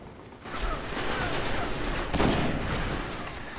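Prudent sniper rifle from Destiny firing during a match, with a sharp loud shot standing out around midway over a steady wash of battle noise and effects, no voices.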